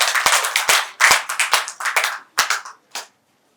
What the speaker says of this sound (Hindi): आप तालियां बजा रहे हैं